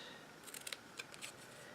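Scissors snip through a corner of card stock during Halloween card making, giving a few quick, faint crisp snips close by in a quiet room.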